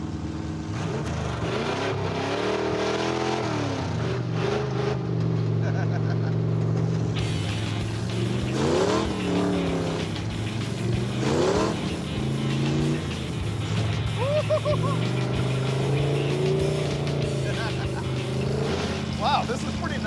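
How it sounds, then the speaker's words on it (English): A Dirt Duster car driven off-road through desert dirt, its engine droning and revving in rising and falling sweeps under steady wind and road rumble, loud and close while someone talks over it. "I like driving this car off-road a lot. We're skating through the dirt."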